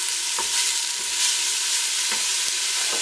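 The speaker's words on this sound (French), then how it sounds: "Avec la cuillère en bois," Chopped onions being stirred in a little oil with a wooden spoon, a continuous bright sizzle with soft scraping strokes and a few dull knocks against the pan.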